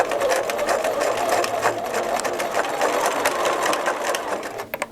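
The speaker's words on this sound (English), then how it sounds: "we're going to top stitch that casing close to the folded edge of zippity" A sewing machine runs steadily and loud, top stitching the casing of a tote bag close to its folded zipper edge, with a fast continuous mechanical whir that stops with a couple of clicks at the very end.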